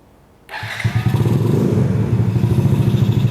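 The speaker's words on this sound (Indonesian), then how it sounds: "Nah, ini suara motor Yamaha Vega-nya ketika udah kita nyalain." A custom Yamaha Vega bobber motorcycle starts after a brief quiet moment, then settles into a steady, close, loud idle with a rapid, even putter.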